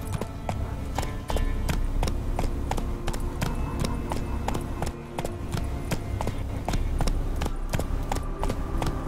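Roach the horse galloping in The Witcher 3, a fast, steady clip-clop of hooves pounding on without a break, loud and close over faint game ambience.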